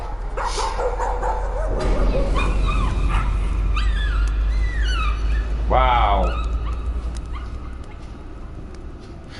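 A dog whimpers and yips in the horror video game Layers of Fear, with high, bending cries rising over a low rumbling ambience while a person talks briefly.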